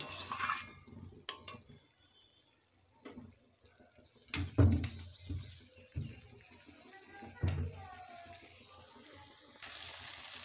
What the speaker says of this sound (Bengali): আলুটাকে এবার একটু কষে নেব।